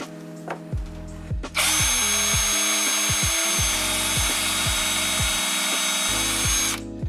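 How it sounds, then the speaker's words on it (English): A power drill bores pilot holes into wood for a homemade low-profile car ramp, with a loud, close whine running steadily for about five seconds after a few short stop-start bursts. "to avoid the wood cracking, we're definitely going to want to pre-drill where we screw"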